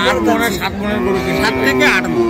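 A cow at a cattle market moos loudly and close by, one long drawn-out lowing call that wavers in pitch.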